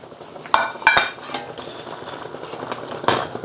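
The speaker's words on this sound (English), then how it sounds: "Just stir them through." A utensil stirs spring onions through chicken noodle soup with prawns in a pot, giving a few sharp clinks and scrapes against the metal pan followed by quieter swishing, heard close up with no talk.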